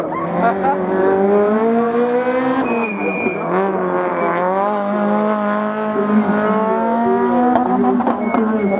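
A Peugeot 309 races through a slalom course at Lessay, its engine revving loud and continuous as it climbs and drops through the gears, with an announcer talking over it.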